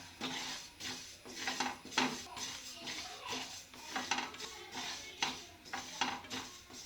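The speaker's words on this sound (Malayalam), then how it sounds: "ചെറിയ തീയിൽ വറുത്തെടുക്കുക" Dry scraping and stirring of sesame seeds roasting in a pan over low heat, a rhythmic series of gritty strokes with light clinks of a utensil against metal, close by.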